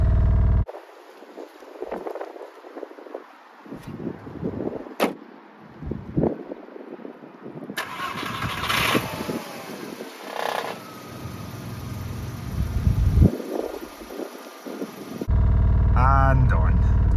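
Around a cheap VW Golf GTI at ignition start-up, scattered clunks and interior rustles come first, then a whirring, motor-like whine, and finally a sudden loud steady engine roar near the end.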